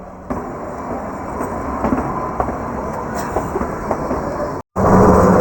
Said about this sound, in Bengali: সিমলার দিক থেকে ফিরছে কিন্তু আরেক ট্রেন